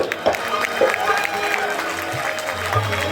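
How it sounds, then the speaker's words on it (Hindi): An audience claps and cheers at an All India Vidyarthi Parishad 66th event in Arrah, with a steady wash of applause and crowd noise under a voice that talks throughout. "एक बार अपने लिए जोरदार ताली बजाइए"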